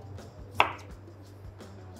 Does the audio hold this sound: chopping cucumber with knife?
yes